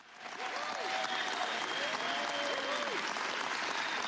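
Sustained applause fills the House chamber during the vote for Speaker, a dense wash of clapping from a large crowd that builds in the first half second and then holds steady and loud.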